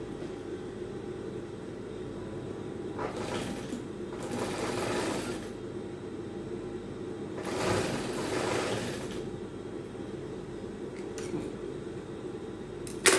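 Sewing machine stitching the side seam of a mono strap dress, a steady whirring hum throughout with a few louder rattling bursts of faster stitching, close and clear with no speech.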